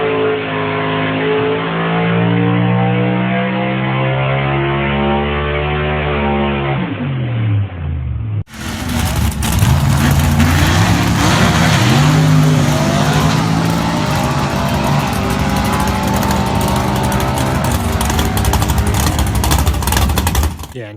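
A loud, roaring drag racing engine in a 1971 Ford Maverick Super Stock with a Boss 302 and manual transmission revs hard, climbing in pitch, cuts off briefly, then returns even louder with a harsh, sustained roar and shifting revs.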